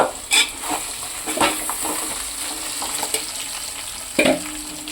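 Crabs hiss and sizzle in a hot pan, with a few sharp clinks and scrapes of stirring breaking through the steady crackle.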